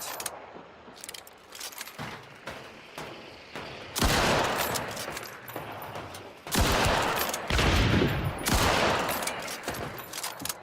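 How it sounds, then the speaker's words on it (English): Shotgun fire in a Crytek game, a few heavy loud blasts at irregular intervals amid clattering gunfire and jangling noises, without speech. "Shotgun."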